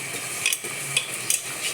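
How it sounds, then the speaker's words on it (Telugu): Chicken curry frying in a pan for a Sunday meal, with a steady soft sizzle and occasional stirring scrapes, close and moderately quiet, no voices. "అది ఫ్రై అవుతుందండి, దోరగా వేయించుకోవాలి."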